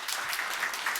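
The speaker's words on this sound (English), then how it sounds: "A round of applause." An audience at a tech conference claps in a steady, dense burst of applause, continuous and fairly loud throughout.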